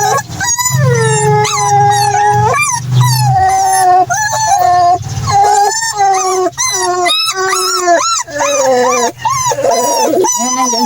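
Pet puppies whimper, yip and howl before a bath, a loud close chorus of rising and falling cries that overlap almost without pause.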